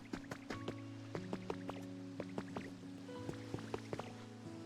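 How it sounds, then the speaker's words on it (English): Drinking water in the Pokopia video game, a run of quick bubbly gulping and slurping blips with tonal game chimes layered underneath, steady and moderately loud with no talk. "And then let's drink that good water."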